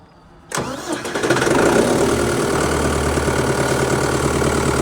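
A John Deere 5510 tractor engine cranks and fires abruptly, then settles into a steady, loud diesel idle close by, with no talking.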